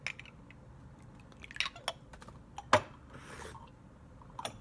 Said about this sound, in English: I like to enjoy the sound of my glass brewing accoutrement